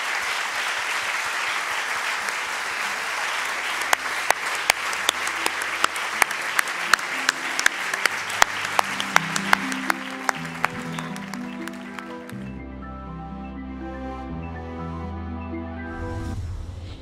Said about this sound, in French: l'applaudir très très fort s'il vous plaît